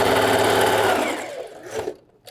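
A sewing machine runs fast and steady while backstitching a seam on wrap-style pants, then slows and stops partway through. A few soft handling clicks and rustles follow.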